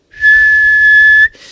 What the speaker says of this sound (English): about 90 watts on that whistle, thereabouts